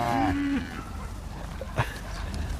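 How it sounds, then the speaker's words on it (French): Cows moo on a farm in Belgium, one long low call up front followed by a fainter lowing in the background, heard fairly close with no talking. "Bonjour les vaches."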